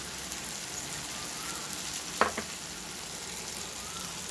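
Yogurt and cashew paste frying in a pan for chicken dopiaza, a soft steady sizzle throughout with one brief clink or stir near the middle.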